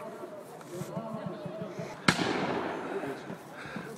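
One loud, sharp gunshot bangs out midway through, cutting above a steady murmur of voices in the background, at a military history reenactment in Kamianets-Podilskyi.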